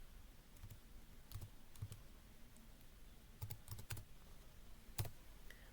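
Keys clack on a computer keyboard in short, irregular bursts of quiet, close typing with pauses between them, over faint room hiss and no speech.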